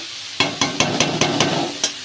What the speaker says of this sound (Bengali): বাদামগুলো দিয়ে একটু নাড়াচাড়া করে নেব